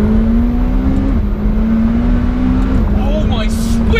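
A McLaren 720S supercar engine droning loud and close from inside the cabin, a steady high rev tone stepping up through gear changes as it accelerates, with a voice briefly heard near the end.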